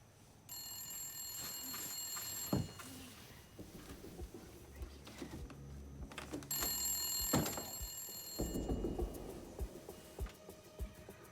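Telephone bell ringing at night in a quiet home, with repeated bursts of ringing separated by short pauses, close and fairly loud.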